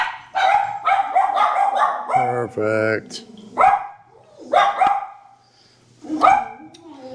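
A dog barks repeatedly near an outdoor catch-and-cook setup on the Gulf of California, with loud, close yaps and howling barks in uneven bursts and a brief spoken word among them.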